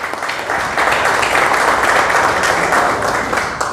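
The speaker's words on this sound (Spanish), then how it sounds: "Luego, un aplauso." Audience applause in a Spanish-language sports program, a steady, dense wash of clapping sustained for several seconds at moderate loudness, with no talk over it.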